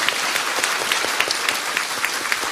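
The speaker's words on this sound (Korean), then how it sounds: "박수 한번 보내주세요" Audience at a Korean political party academy lecture applauding, a dense, steady round of clapping from a large crowd, fairly close and sustained throughout.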